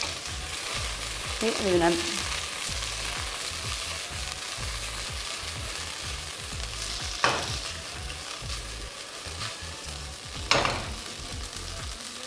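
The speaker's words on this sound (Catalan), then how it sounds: "li tirem ara ja la mongeta. Ara si fa sorollet" Green beans go into a hot pan of oil for vegan breaded fillets, setting off a steady near sizzle with occasional sharp spatula taps and scrapes, while a voice speaks briefly at the start.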